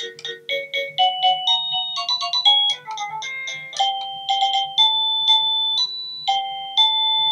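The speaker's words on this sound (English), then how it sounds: "Christmas doorbell? This is a Christmas song," An Avantek DT52 wireless doorbell plays a Christmas song chime, a clear electronic melody of bright, evenly paced tones ringing out alone for several seconds.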